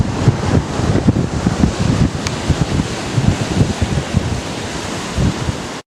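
Strong coastal wind at San Simeon, estimated at 40 to 50 mph, roars steadily and loudly across the microphone in buffeting gusts, then cuts off abruptly.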